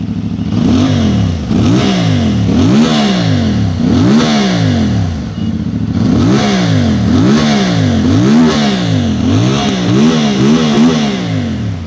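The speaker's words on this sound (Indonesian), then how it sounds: "suara knalpotnya cukup keras ya, cukup nyaring, tapi suara mesinnya senyap. Coba kita geber." A CFMOTO 450MT inline two-cylinder motorcycle engine with 270-degree crank revs hard and repeatedly, each throttle blip rising and falling in a loud, rhythmic V-twin-like burble close by, with a brief pause midway.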